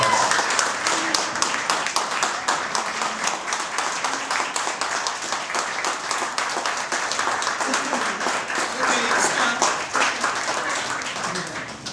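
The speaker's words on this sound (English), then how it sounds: "A massive round of applause." Audience at a Houston Fenians event standing to applaud Amber Murphy, steady vigorous clapping from a crowd continuing for the full stretch with a few voices mixed in.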